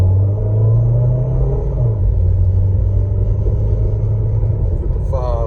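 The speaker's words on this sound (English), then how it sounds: "Spinning the wheels and all." A Toyota Celica stuck after a winter storm, its engine droning low and loud as the wheels spin for several seconds, close by and steady, with a faint noise near the end.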